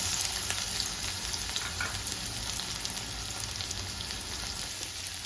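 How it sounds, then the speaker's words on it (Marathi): Onion hitting hot oil in a pan, giving a loud, dense, steady crackling sizzle that stays close and continuous throughout, with no voices. "तेल गरम झालंय, त्याच्यात कांदा घालूया।"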